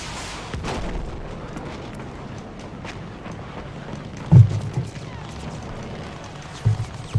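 Enemy aircraft gunfire in the World War I shooter Battlefield 1: a rumbling bed of combat noise with a few sharp, loud bursts near the end, heavy low booms standing out against continuous engine drone.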